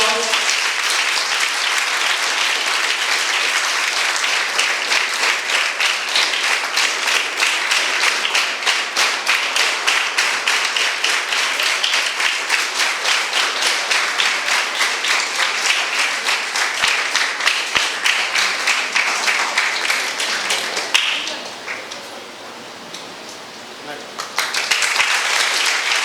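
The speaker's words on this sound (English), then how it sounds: "Dear students, give a huge round of applause." Sustained audience applause from students at a school event, a loud, dense wash of clapping that runs steadily for over twenty seconds, dips briefly near the end, then swells back up.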